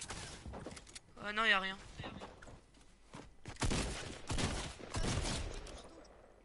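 Rapid gunfire crackles in an online shooter, several bursts spread across a few seconds at moderate distance, mixed in with a player's speech.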